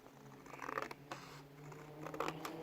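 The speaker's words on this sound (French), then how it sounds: "Maintenant, je vais couper au milieu." Scissors cut through the middle of a paper shape for a penguin craft, giving a few close, crisp snips and paper rustles with no talking.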